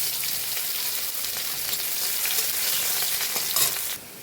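Crushed garlic and chopped green chillies hit hot oil in a steady, loud, close sizzle that hisses continuously for about four seconds, then drops away abruptly; no voices.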